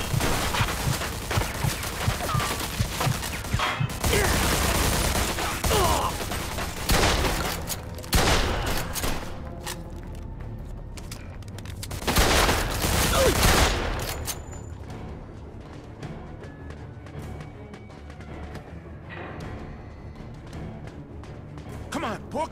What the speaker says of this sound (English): They're shooting at me, for Christ's sake.